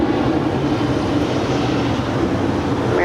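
A passenger jet, Dallas 3041, powering up for takeoff on runway 25 right at Los Angeles International Airport, a loud, steady broadband engine roar filling the whole stretch, heard from nearby with no voices.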